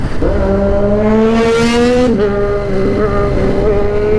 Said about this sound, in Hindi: इतनी लाउड बाइकें